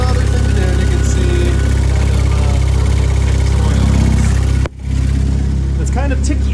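Suzuki GSX motorcycle engine idling with a leaking exhaust gasket, a steady loud rumble with faint ticking, cutting out briefly near the end before resuming.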